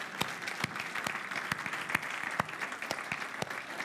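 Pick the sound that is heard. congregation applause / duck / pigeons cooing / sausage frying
congregation applause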